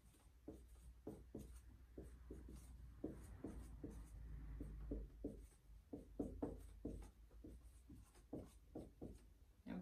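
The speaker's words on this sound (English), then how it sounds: "Go ahead and write it right there." A child writes on a classroom board in short, repeated strokes with small pauses, the scratching marks coming close and steady throughout with no talk over them.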